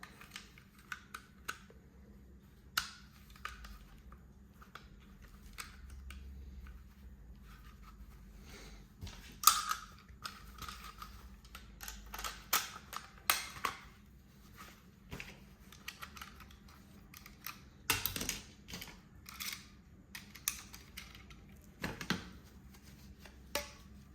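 Small metal and polymer parts of an Alloy Gun Glock 18 pistol click and snap together during reassembly, a scattered run of sharp close taps and clicks of varying loudness with no talking.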